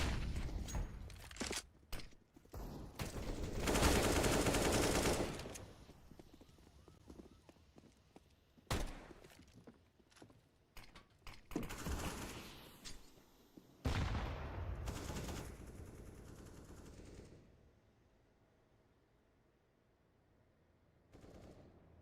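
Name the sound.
pistol gunfire in a Counter-Strike match, video game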